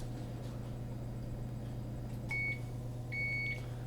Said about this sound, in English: beep beep beep's going on here